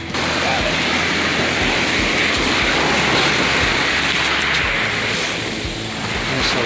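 Small ocean waves wash up on a beach in a steady broadband surf wash, with wind buffeting the microphone throughout and a slight lull near the end.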